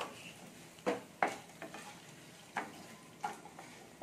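Spices frying lightly in a pan, with a faint steady sizzle punctuated by several soft scraping and tapping strokes of a spoon at irregular intervals, close by and quiet.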